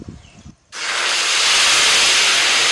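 A ground paste of ginger, green chilli and tomato hits hot white oil in a kadai tempered with cardamom, cinnamon and cloves, setting off a sudden, loud, sustained hiss and sizzle after a brief quiet moment.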